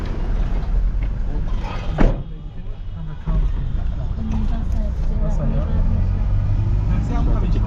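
The inside of a shared taxi car in Dushanbe, Tajikistan, carrying five men, has a steady engine and road rumble, a brief knock or door thud, and people talking inside.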